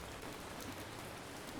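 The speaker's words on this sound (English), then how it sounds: "It's raining." Steady rainfall in the video game Ancient Cities, a dense, even hiss of drops landing on surfaces that stays faint and unbroken throughout.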